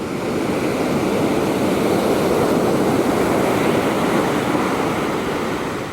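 Ocean waves break continuously at a surf beach in Portugal where surfers ride, a steady, loud roar of surf and wash with no voices.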